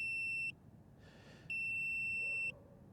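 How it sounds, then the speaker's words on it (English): A Potensic Atom SE mini drone sits after landing and emits two loud, sustained electronic beeps of about half a second and a full second, separated by a short pause, close by with faint background hiss. "And it's still beeping at me."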